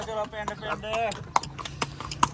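A horse pulling a tanga clip-clops at an even walking pace, sharp distinct hoof strikes on pavement coming close, with someone speaking over the start.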